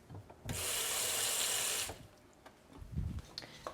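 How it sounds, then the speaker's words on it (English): Water runs from a tap for about a second and a half while filling for an avocado smoothie in a blender, a steady rushing stream that cuts off, followed by quiet kitchen handling noises. "So I'm just going to add some water here."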